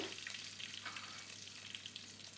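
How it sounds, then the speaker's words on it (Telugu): Quiet, crackling sizzle of spice tempering in hot oil, steady with small pops, close by and low in level. "ఇప్పుడు పోపు వేసేసుకుందాం"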